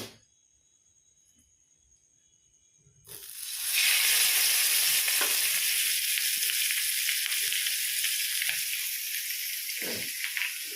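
Egg frying in coconut oil: about three seconds of near silence, then a sudden loud, steady sizzle that holds on, with occasional soft scraping or stirring knocks beneath it.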